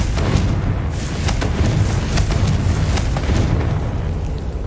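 Confringo spell explosions in the game Hogwarts Legacy, several punchy booms and sharp bursts rising from a constant rumbling din, close and loud throughout.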